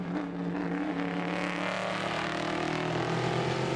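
Vintage race cars roar around the Indianapolis circuit during an SVRA vintage racing event, a continuous loud engine drone with rising and shifting tones as cars battle closely for position.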